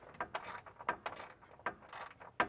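Control arm bolts on a 2015-2021 Mercedes-Benz W205 are snugged down, giving a quick series of light metallic ratchet clicks and clinks at close range, with short pauses between them.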